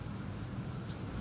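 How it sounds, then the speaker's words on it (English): Rain falling steadily outdoors, a dense, even hiss of drops throughout, faint and uninterrupted. "Now see how fast raining is coming after I done with the lectures."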